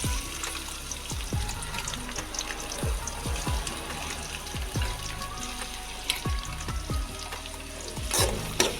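Sliced onion sautéing in hot oil with bay leaves, cinnamon and cloves for a vegetable kurma, a steady crackling sizzle with repeated spoon scrapes and knocks against the pan, alone and close.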